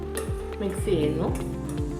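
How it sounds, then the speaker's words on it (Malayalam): A spoon stirs water mixed with turmeric powder and salt in a small vessel, giving rhythmic scraping clinks about every half second, close and moderately loud. "മിക്സ് ചെയ്യുന്നു."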